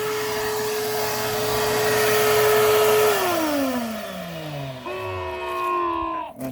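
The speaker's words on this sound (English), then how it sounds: "Let it suck away. Sucking out all the gunk." A loud vacuum draws gunk and water out of an air-conditioner drain with a steady roaring whine. Partway through, the motor pitch sweeps downward, then a second rising tone comes in before it winds down.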